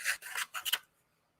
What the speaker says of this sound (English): These scissors are crispy.